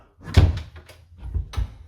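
Interior door being lifted off its hinges after the pin is pulled: a couple of dull wooden thunks and knocks, close and moderately loud, with brief handling bumps between them and no talking.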